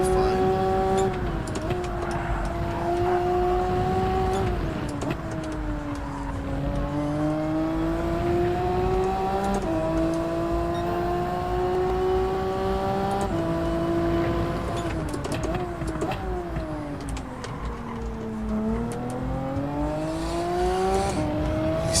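Race car engine in Gran Turismo 7 during the 6 Hours of Suzuka, held at high revs with repeated rising pulls and brief dips at gear shifts, loud and continuous under a talking voice.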